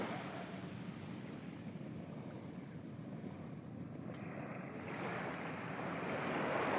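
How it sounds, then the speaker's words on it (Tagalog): Sea waves wash continuously onto a beach, a broad steady rushing hiss with some wind noise, swelling slightly louder toward the end, no voices. "Sa Dalampasigan."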